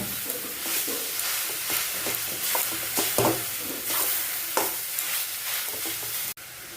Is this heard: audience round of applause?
no